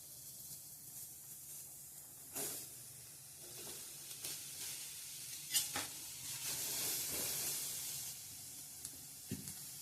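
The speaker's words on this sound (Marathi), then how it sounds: "त्यासाठी बघा आता आधी कांदा भाजून घेऊया आपण" Onion frying in a little oil in a pan for a Malvani-style prawn curry masala: a quiet, close sizzle broken by several short stirring scrapes and spatula taps, with a louder hiss building toward the end.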